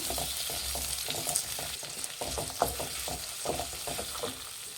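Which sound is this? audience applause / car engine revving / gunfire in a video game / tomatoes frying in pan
tomatoes frying in pan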